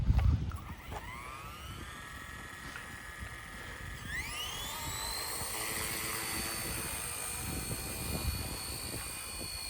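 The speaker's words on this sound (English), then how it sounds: "All right, so she flies pretty normal." RC Era C032 UH1 scale model helicopter flying outdoors, a steady high-pitched rotor and motor whine that rises sharply in pitch around midway as it climbs, then holds loud and constant.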